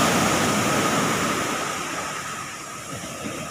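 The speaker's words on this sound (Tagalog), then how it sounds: "Ayan, malaki talaga yung alon." Large ocean waves surge around a small fishing boat at sea, a steady broadband wash of surf and wind that stays loud and close throughout, slowly easing toward the end with no talking.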